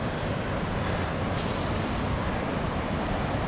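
Surf rolls onto a Lake Michigan beach at Hog Island as a loud, unbroken broadband wash mixed with wind rumble, steady throughout.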